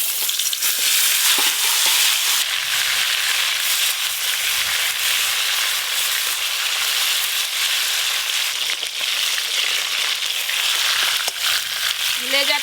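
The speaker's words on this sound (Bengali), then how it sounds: "এই যে মাছগুলো আছে এগুলো সব একসঙ্গে ভেজে নেব।" Pangas and chela fish frying together in a well-filled pan of hot oil, a loud, dense and steady sizzle with crackling spatter running the whole time.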